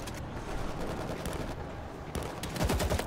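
Rapid gunfire from a high-capacity gun in World War Z, dense bursts of shots crackling continuously over a busy combat background, growing louder toward the end.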